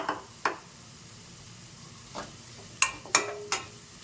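Potatoes frying in oil in a pan, a quiet background sizzle punctuated by several sharp spatula scrapes and knocks against the pan, spaced irregularly and close up.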